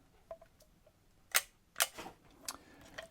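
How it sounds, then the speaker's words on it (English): A Holga 120 GCFN medium format film camera gives a couple of sharp, crisp shutter-release clicks close to the microphone, followed by a softer click, against a quiet background. "Here is your shutter release right here."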